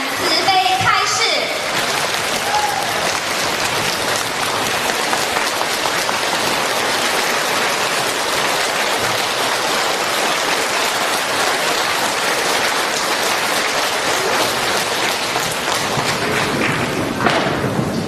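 Warm, sustained applause from a large audience at a Buddhist dharma assembly in Sydney fills the hall as a dense, continuous patter of clapping, loud and steady throughout.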